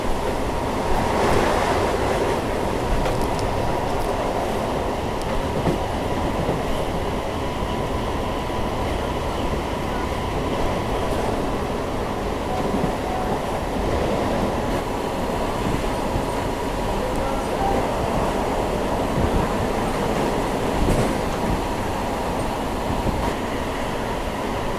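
A Bandel to Barddhaman local train pulls out of Talandu railway station, its carriages rumbling and rattling in a loud, continuous roar that stays even throughout.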